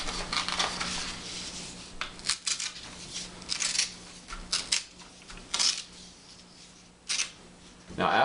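Paper torn by hand to make a jet fighter paper airplane, a series of short, sharp ripping bursts close up, coming in irregular bursts with brief pauses between them.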